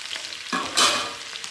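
River fish sizzles in a frying pan, starting as a soft hiss and then flaring into a brief, louder burst of crackling close by, with a stirring scrape underneath.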